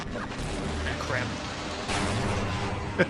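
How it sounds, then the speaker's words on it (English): Dense, continuous rumbling explosions filling a room in the video game Half-Life, a loud wall of blasts and booms with no break and a sharp thump at the very end. "Room is full of explosions."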